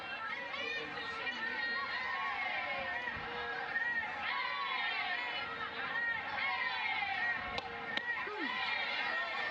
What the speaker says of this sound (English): We could hear the crowd just kind of explode when Elam got a hold of that one.